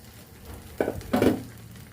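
Cumin, onion, green chili, carrot, beetroot and ginger hit a hot pan with two brief, close scraping stirs and a soft sizzle, over quiet kitchen background.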